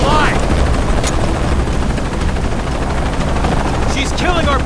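Helicopter in the video game Shadow of the Tomb Raider, a loud continuous rotor roar and engine drone close by, with brief bursts of game effects and a voice at the start and end.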